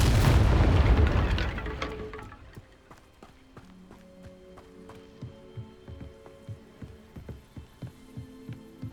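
The Incendio fire spell in Hogwarts Legacy: a loud, roaring burst of flame that swells at once and fades over two seconds, followed by quieter footsteps and small clicks.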